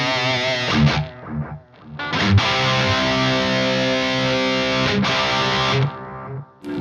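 Electric guitar played through a delay pedal with modulation switched on, the repeats wavering in a chorus-like shimmer; sustained distorted chords ring out loudly and continuously with short gaps between strums, no voices.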